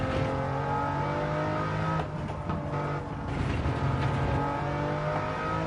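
A Lamborghini engine races in Gran Turismo 7, a sustained, droning engine whine that dips briefly midway and then surges back at full strength.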